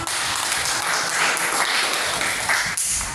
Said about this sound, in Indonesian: Tepuk tangan dong buat Tina.